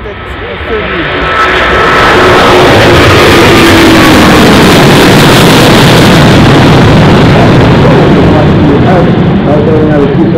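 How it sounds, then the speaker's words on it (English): Airbus A350-1000 wide-body jet airliner flying its display at the Farnborough Airshow, a loud, continuous engine roar that swells within the first two seconds and stays powerful overhead. "Airbus A350-1000 starting his display."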